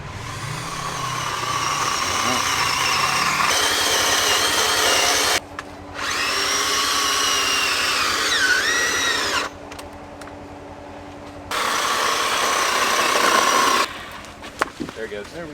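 A chainsaw cuts through a fallen tree blocking an off-road trail in Alberta. The engine whines loudly in repeated bursts, rising and dropping in pitch between revs and idle pauses, and voices can be heard now and then.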